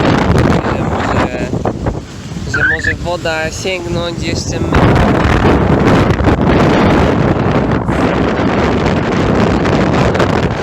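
Strong wind on an island in Honduras roars and buffets the microphone throughout, loud and gusty, with a person speaking briefly over it.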